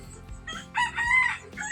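A rooster crows once nearby, a loud drawn-out call rising and then trailing off, with faint clucking around it.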